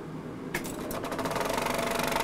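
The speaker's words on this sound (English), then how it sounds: "it's time to start the motor" A 70mm film projector motor starts up with a sudden onset, then settles into a steady, rapid mechanical clatter and whir that runs close and fairly loud with no talk.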